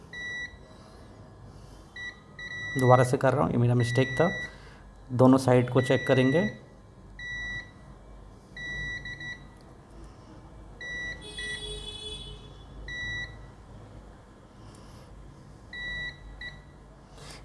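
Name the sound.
multimeter continuity beep while testing a phone board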